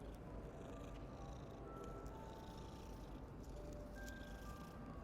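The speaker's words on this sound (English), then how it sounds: "You can pet the cat." In the Hogwarts Legacy video game, a cat being petted gives soft purrs and a few meows, faint and low under a constant game ambience with quiet tonal music notes drifting through.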